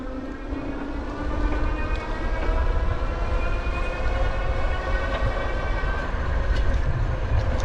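A Magnum Navigator X electric bike hub motor whines under thumb throttle, its rising tonal pitch climbing steadily over continuous rolling road and wind noise.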